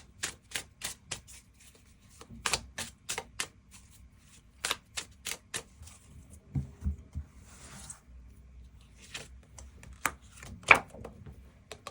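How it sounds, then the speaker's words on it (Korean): Tarot cards are drawn and laid from a deck, a run of short, crisp flicks and snaps of card stock, close and fairly quiet, irregularly spaced with brief shuffling rustles. "그 부분 추가 카드 뽑아보도록 하겠습니다."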